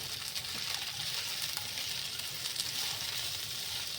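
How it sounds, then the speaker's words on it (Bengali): Inch-long onion stalks drop into hot oil with lightly fried cauliflower, and a soft, even sizzle crackles for the whole stretch with faint stirring and no voices. "আর এবার আমি পেঁয়াজ কলিগুলো দিয়ে দিচ্ছি।"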